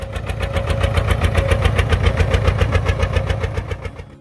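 A John Deere Model R tractor's massive two-cylinder diesel engine runs close by with an even, rapid chugging pulse that holds steady throughout and fades slightly at the end.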